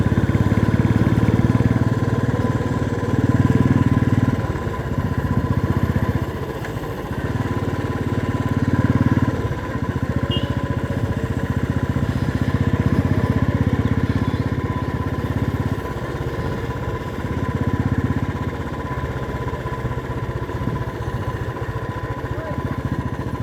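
A motorcycle engine idles steadily nearby outdoors at a traffic checkpoint, a low continuous rumble with slight surges, running under people's talk.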